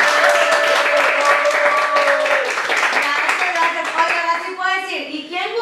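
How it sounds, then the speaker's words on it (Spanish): Guests at a birthday party clap and cheer, a lively burst of hand clapping mixed with voices and shouts, thinning out toward the end as laughter and chatter take over. "Gente, un fuerte aplauso para mi amiga Priscila."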